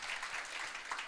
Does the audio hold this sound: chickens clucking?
no